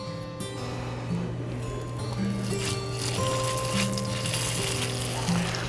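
Small piece of meatball mixture frying in olive oil in a pan, giving a steady close sizzle with a constant low hum running underneath, no talking.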